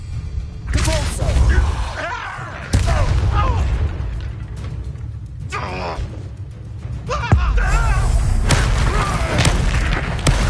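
A Repulso spell cast in Hogwarts Legacy gameplay lands as a loud booming blast. It is one of several heavy magical impacts and crashes in a busy combat mix, with some game voice heard.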